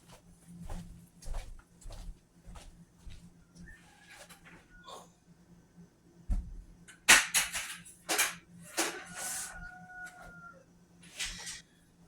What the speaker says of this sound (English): The roosters are outside hollering.